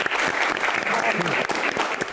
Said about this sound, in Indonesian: Tepuk tangan sekali lagi untuk bintang tamu kita juga Bang Yos.